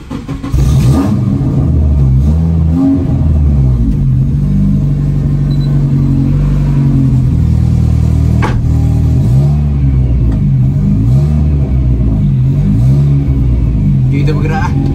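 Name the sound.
Honda CR-Z car engine starting and revving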